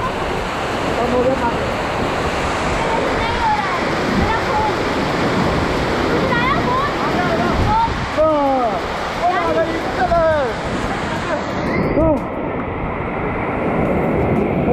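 Roaring water from the massive Badiyargarh waterfall, a loud, constant rush filling the whole scene, with someone talking and calling out over it.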